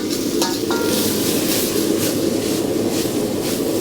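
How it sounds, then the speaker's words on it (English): Plant-based shrimp and Mindful Chik'n sauteing in a pan, a loud continuous sizzle with a few faint clinks, close and steady, without talk. "We got our Mindful Chik'n, add that in. Give this a quick saute."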